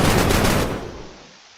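A rapid burst from a Tommy-gun-style weapon in the Minecraft Create: Love And War mod, loud automatic fire lasting just over half a second before fading into a lingering reverberant tail.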